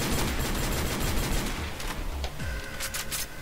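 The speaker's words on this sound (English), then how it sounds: "It's a nice deagle." Desert Eagle fire in a Call of Duty Ghosts match, loud rapid volleys of gunshots crowding the first half, then scattered single shots and game effects trailing off.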